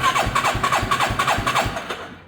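A quad ATV engine with the choke on cranks through a cold start attempt, a close, loud rhythmic chugging of about eight turnover strokes that never catches, then falls quiet.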